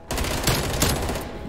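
FFAR assault rifle in Black Ops Cold War fires one continuous, loud, close automatic burst of rapid, evenly spaced shots with no pause.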